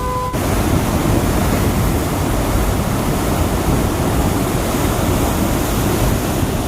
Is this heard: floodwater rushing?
yes